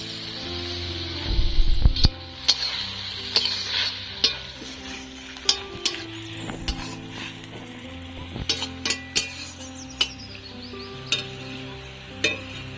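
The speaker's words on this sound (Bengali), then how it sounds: "সজনে শাকটা আমি ভাজছি" Drumstick (sajne) leaves frying in a pan while being stirred, with a low sizzle under repeated sharp clinks and scrapes of a spatula against metal at irregular intervals.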